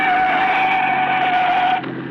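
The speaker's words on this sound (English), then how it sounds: "It's a police car." A police car drives past in an old-time radio detective drama, its steady engine hum and tonal whine holding near and loud before easing slightly at the end.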